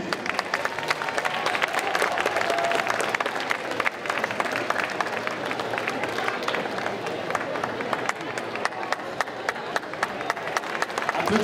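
Audience applauding costume contestants at a Geek Legends cosplay contest in Chalon-sur-Saône, continuous dense clapping from a sizeable crowd, with an announcer's voice faintly mixed in.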